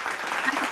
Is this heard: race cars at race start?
no